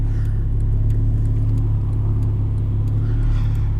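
Steady, deep rumbling idle of a 2012 Porsche 911 Turbo S Cabriolet engine in Sport Plus mode, heard from inside the car, with no revving and no talking.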